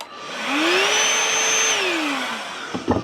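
A DeWalt DCV501LN cordless handheld vacuum cleaner switches on, its motor whine rising smoothly to a steady high pitch, holding, then winding down, followed by a few close handling clunks.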